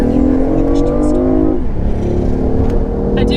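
A 2017 BMW i8 hybrid supercar in sport mode accelerates with a rising engine note that climbs in pitch, drops at a gear change, then pulls again, loud from inside the cabin while people talk.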